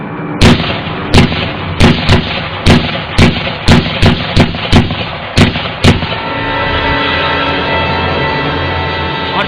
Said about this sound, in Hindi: एक के बाद एक 12 गोलियां।